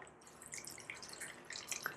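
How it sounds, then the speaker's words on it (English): Tap water trickles and drips into a mug, a faint, close splashing with small bright droplet sounds and no talk. "I'm going to start filling the mug"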